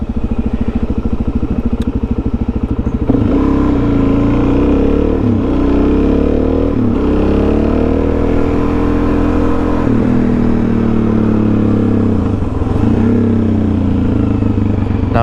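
A Suzuki DRZ400SM supermoto's single-cylinder engine runs loud and close, climbing and falling in pitch through repeated revs and shifts, with a rough, rattly rasp throughout.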